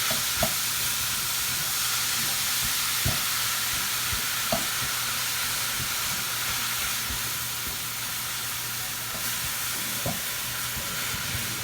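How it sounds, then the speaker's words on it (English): Mushrooms and onions softening in a pan, a steady close sizzle with occasional scraping knocks of stirring spread through, no voices. "So we'll keep stirring this, and we're just kind of waiting for the vegetables to release their moisture."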